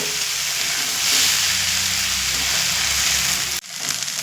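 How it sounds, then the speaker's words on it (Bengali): Young taro stolons stir-fried over high flame with a pinch of sugar, a loud steady broadband sizzle with stirring scrapes throughout, briefly cutting off near the end before resuming. "হাই ফ্লেমে এই কচি লতিগুলো এরকমভাবে নেড়ে নেড়ে ভাজা ভাজা করে নেব"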